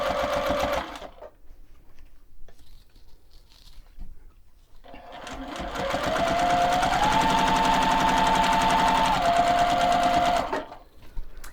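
Sewing machine stitching quilt binding along an edge, a short loud burst at the start, then a pause and a long steady run of rapid stitching at close range with no talk.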